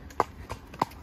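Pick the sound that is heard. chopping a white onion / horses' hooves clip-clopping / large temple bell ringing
horses' hooves clip-clopping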